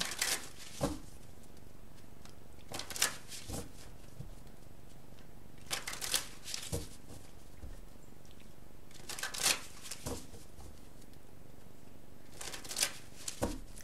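Tarot cards shuffled by hand at close range in short crisp bursts, separated by quiet pauses, with no talking during the shuffles.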